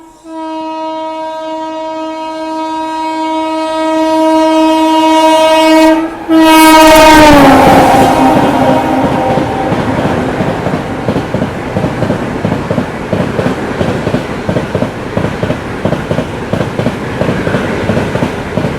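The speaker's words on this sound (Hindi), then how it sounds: "यहाँ हमें ओवरटेक करने वाली है देश की सबसे पहली हावड़ा न्यू दिल्ली राजधानी" The Howrah–New Delhi Rajdhani Express sounds a long, loud horn blast as it approaches, then roars past close by with a rapid, steady clatter of wheels over rail joints.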